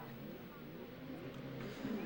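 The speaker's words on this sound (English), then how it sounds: "And the cars are revving up, we're getting ready." Autograss race cars idle and rev their engines on the grid before the start, a low rough mechanical drone that swells near the end, with a commentator talking over it.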